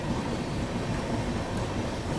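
An Indian Railways express train with a WDM diesel locomotive running at speed: a dense, continuous rumble and rattle of wheels and carriage, steady and enveloping throughout.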